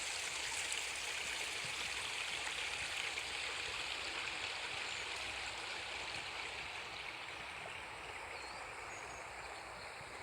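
A little stream in a countryside field flows in a continuous soft gurgling rush, steady and moderately close, fading slightly toward the end.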